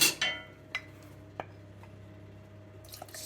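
Hot sauce stirred into mustard powder mixed with water: a few soft, wet spoon clinks and drips scattered over a low steady hum, close and fairly quiet.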